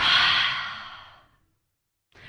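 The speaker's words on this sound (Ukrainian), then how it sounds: "Зробили глибокий вдих і повний видих" A single deep, slow breath taken as a breathing exercise, with a long audible exhale that fades to silence, followed by the start of another intake, heard close and quiet.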